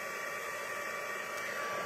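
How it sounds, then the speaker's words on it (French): A steady, loud rushing blast of air from a heat gun, continuous and unbroken throughout with no talking. "vous prenez votre pistolet chauffant. Donc ça va faire un peu de bruit"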